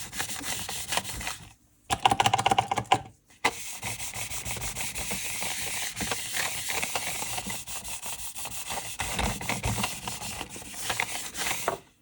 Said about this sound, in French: Et comme toujours avec ma lingette, je viens nettoyer une dernière fois le cache de protection.